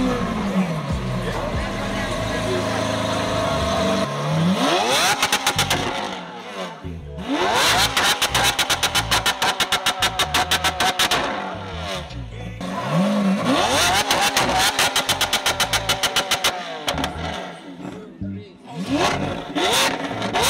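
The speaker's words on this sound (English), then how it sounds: "everyone's running across now to go see the Aventador that's making noise" Lamborghini Aventador supercar engine revving loudly nearby in repeated bursts, each climbing to a high scream and then dropping back, with a crackling rattle between the revs.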